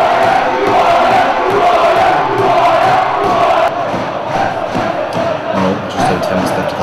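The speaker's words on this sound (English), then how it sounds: "And the crowd responds to the players' cry." A large crowd at the Nottingham football varsity match roars and chants loudly and continuously, a dense wall of cheering and shouting with massed voices that dips slightly partway through.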